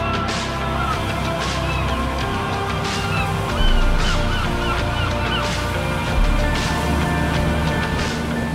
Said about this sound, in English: we fed the seagulls.